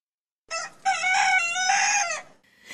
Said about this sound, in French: Je ne suis pas sûre que les coqs chantent les matins d'hiver